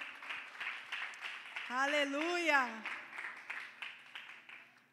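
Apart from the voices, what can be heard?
congregation applauding in church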